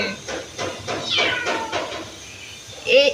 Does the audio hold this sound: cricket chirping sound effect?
no